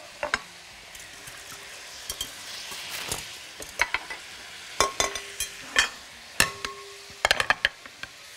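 Butter mixed with a little ghee melts in a pan for a rice-sheet tray, giving a faint soft sizzle broken by sharp, scattered clinks of a utensil against metal.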